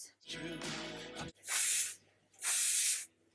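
Hairspray hisses out in two distinct bursts over a messy bun, each about half a second, close and bright, following a brief spoken phrase at the start.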